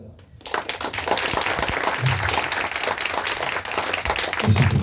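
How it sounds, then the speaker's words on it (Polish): An audience bursts into sustained applause, a dense, steady roar of many hands clapping at close range that lasts the whole stretch, with a voice briefly audible underneath. "Brawa dla Wedomira"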